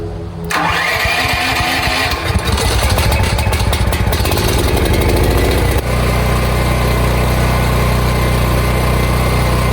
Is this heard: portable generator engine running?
yes